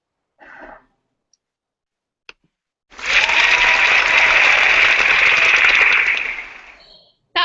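A loud, close burst of clapping and cheering from a crowd rises suddenly after near silence, holds steady for about three seconds, then fades out. A few faint isolated sounds come before it.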